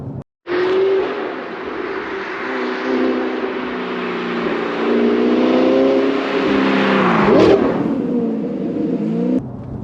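Audi R8 V8 with a manual gearbox accelerating along a bumpy road, its engine droning steadily and rising in pitch as revs climb, with a brief swell near the end before cutting off.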